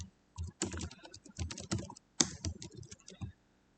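Rapid bursts of small plastic key presses on a TI calculator, clustered taps in two quick runs separated by a short pause, close and crisp with no talking.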